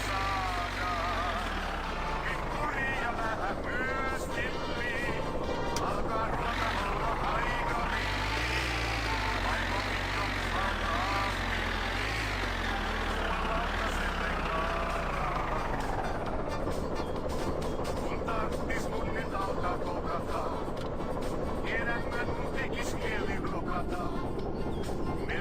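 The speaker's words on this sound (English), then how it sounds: "Sometimes that engine doesn't want to die." A car engine in the video game My Winter Car runs loud and steady throughout, its pitch climbing and falling as it revs up and settles back down.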